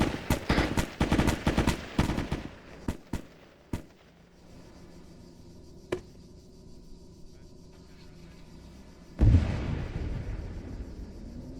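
Rapid bursts of video game gunfire crackle in quick succession, then a few isolated shots follow, with a louder rumbling blast near the end.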